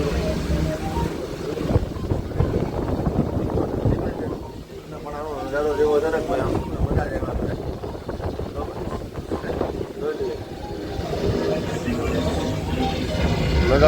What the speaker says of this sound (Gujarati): જો બોટ નીકળી ગઈ છે ધીમે ધીમે ધીમે ધીમે હવે ચાલી છે